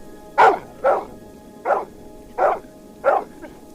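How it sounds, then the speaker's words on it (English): A large dog barks five times in a steady rhythm, loud and close, each bark sharp and clearly separated by brief pauses. "a huge dog rushed out, barking furiously"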